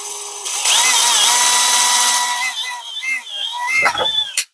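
Power drill whirring in a workshop while building a custom gauge cluster, a loud high-pitched motor whine that holds steady, then slows and revs in short bursts toward the end.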